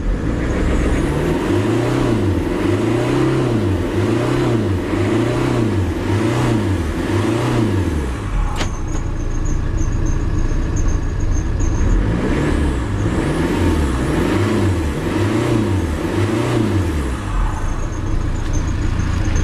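A Tata Vista diesel car engine with a misfire is revved hard in repeated cycles, its loud, close roar rising and falling in rhythmic pulses with an uneven, stumbling beat, in two bursts separated by a brief dip.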